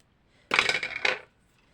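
Scissors snip once at an angle through paper or card, a short bright double-edged cut lasting under a second, close and crisp against near silence.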